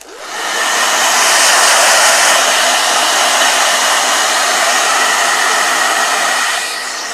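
A hair dryer blows steadily at close range over a watercolor painting, a loud continuous whooshing roar that starts up and holds for several seconds, with no voices.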